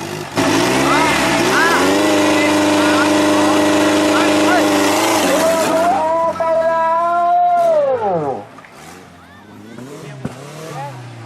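A buggy race car engine, likely a 3-cylinder unit, roars loud and close with a strong harmonic whine, holds steady, then its pitch falls and fades as the car moves off, with faint crowd or commentary noise behind.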